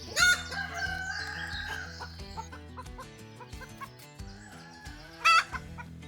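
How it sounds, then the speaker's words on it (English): A rooster crows loudly and repeatedly over a backdrop of clucking chickens in a home flock, with a second burst of crowing near the end. "In between the rooster uproars or Milky's little broody tantrums"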